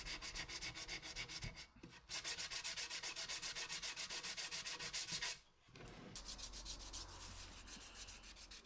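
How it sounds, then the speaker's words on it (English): Wood corners hand sanded with 180 grit sandpaper, rapid rhythmic back-and-forth rubbing strokes, close and steady, with two brief pauses before the scratching resumes. "I just soften all the corners over with an hand sand"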